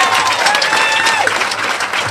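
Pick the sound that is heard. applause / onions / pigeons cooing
applause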